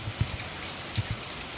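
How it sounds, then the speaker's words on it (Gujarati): Heavy rain pours steadily in a village setting, a dense continuous hiss with a few louder drips and thuds close by. "ઝીણો ઝીણો નથી, આમ તો ફૂલ છે, ફૂલ વરસાદ ચાલુ છે"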